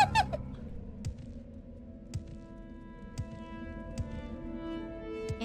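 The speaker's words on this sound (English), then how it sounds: "Sounds like a crow got hit mid-flight." A crow-like creature cries out in Morrowind, a harsh squawk at the very start followed by sparse faint clicks and knocks over a quiet low hum, with no talking.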